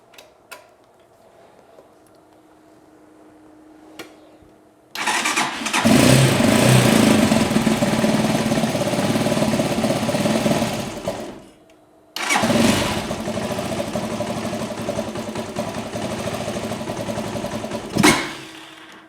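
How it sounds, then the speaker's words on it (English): Janus 250 motorcycle engine after a carburetor cleaning, starting up after a quiet lead-in of faint ticks, running loud and steady, cutting out briefly, then restarting and idling on with a strong near rumble. "We'll see if it starts and runs."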